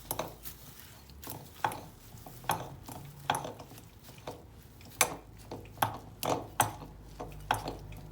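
Spoon scraping and clinking in a bowl while stirring a parsley filling for sigara böreği, irregular soft taps and scrapes repeating every half second or so, close and quiet.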